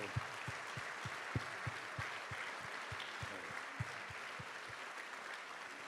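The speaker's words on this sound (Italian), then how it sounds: "io farei un applauso all'uomo che ha forse iniziato la moda a Sassari, si chiamava Angelo Basente." Applause at a Christmas fashion event in Sassari, heard as a faint, distant, sparse series of claps over a constant hiss of room noise.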